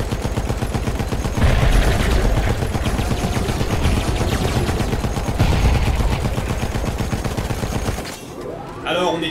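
Rapid blaster fire from a spaceship in a Star Wars parody rattles in dense, loud bursts for about eight seconds, then cuts off into a brief quieter tail with a rising whoosh.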